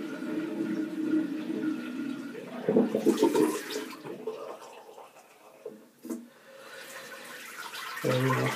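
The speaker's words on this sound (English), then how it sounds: "So I'm just going to drain a little water." Water drains noisily from an overfilled bathtub in a home bathroom, a rushing gurgle that surges and fades in several bursts with brief quieter gaps between.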